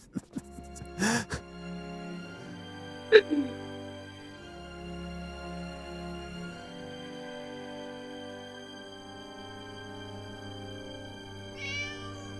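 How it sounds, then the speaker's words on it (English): A cat meows once, faint and brief, amid quiet ambient tones and music in a Tomb Raider custom level video game. "There you go, you can hear the cat meowing"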